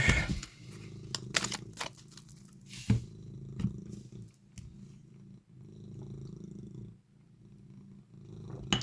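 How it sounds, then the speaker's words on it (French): A cat purring steadily up close, low rumbling pulses repeating for several seconds with light rustling and clicks over it. "ça ronronne, ça commence"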